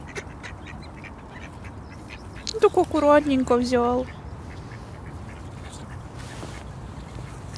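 Ducks quack in a short burst of several calls while feeding on an island, close and clear over steady outdoor background, with a person speaking briefly nearby.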